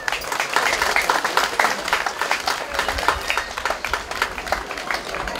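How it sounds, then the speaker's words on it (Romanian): An audience applauds a visiting folk ensemble from Serbia at a folk costume ball in Voiteg, with dense, steady clapping from many hands that holds at an even, fairly loud level throughout. "Vă rog să-i aplaudați."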